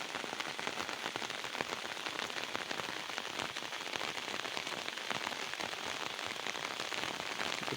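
Heavy rain pouring down in a village, a dense unbroken hiss of drops striking surfaces, steady and enveloping throughout with no voices.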